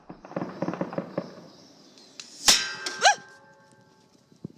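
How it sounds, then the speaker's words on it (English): A few sharp cracks of gunfire ring out with metallic echoes at a compound, preceded by a quick series of faint pops; sparse and fairly distant. "you can hear rounds of gunfire land just inches from where she stood at the compound"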